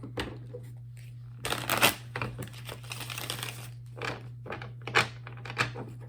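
Tarot cards being shuffled by hand in a quiet room, bursts of riffling and crisp rustling separated by short pauses, close and moderately loud over a steady low electrical hum.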